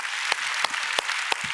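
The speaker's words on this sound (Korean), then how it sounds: "우리 선교사님들 위해서 격려의 박수를" A church congregation at a Korean Sunday worship service claps in encouragement for missionaries. Dense, even applause runs throughout, broken by a few sharp louder claps.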